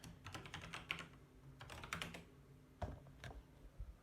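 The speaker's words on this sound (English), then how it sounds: "Continue, install, type in my password." Fingers typing a password on a computer keyboard while setting up a Hackintosh OptiPlex 7010, quiet irregular clusters of key clicks with a few firmer presses, close and alone.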